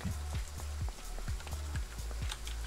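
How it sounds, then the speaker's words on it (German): Rain in the train simulator Train Sim World, a steady patter of drops with soft low thuds repeating every few tenths of a second, moderately quiet and with no talking. "es regnet hier drunter"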